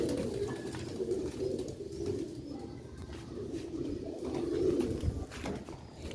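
Sialkoti rooftop pigeons and their chicks coo in low, throaty, repeated murmurs close by, with faint bird movement mixed in and no voices.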